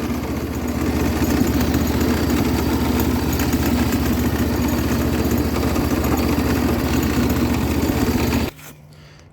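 A John Deere 200 series garden tractor engine runs steadily and loudly at a constant idle-like drone, close by and alone, then cuts off abruptly near the end, leaving quiet.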